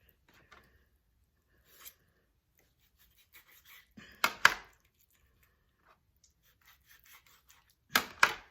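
Knife chopping through a large raw turkey, sparse scraping and cutting sounds building to two sharp, close chops, then another pair of heavy thwacks near the end, with no talking.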